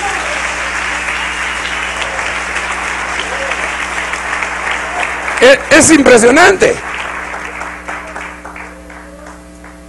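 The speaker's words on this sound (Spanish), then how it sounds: "Démosle un aplauso bien fuerte al Rey." Church congregation claps loudly in a dense, sustained round of applause, while a voice speaks briefly over it near the end as the clapping starts to thin.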